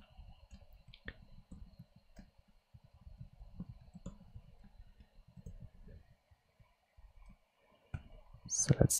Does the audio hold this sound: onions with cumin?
no